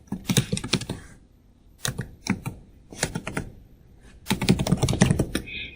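A password being typed on a computer keyboard during an admin account setup: close, crisp key clicks in several quick bursts separated by short pauses.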